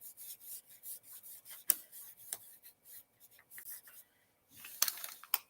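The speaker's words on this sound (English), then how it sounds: "we're just going to rub it on the white" Cloth-covered fingers rubbing paint onto white beading, soft rhythmic scuffing strokes in a steady series, close and quiet, with a few sharper rubs near the end.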